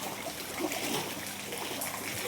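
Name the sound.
people walking through flood water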